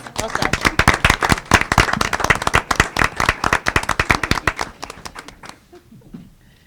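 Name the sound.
applause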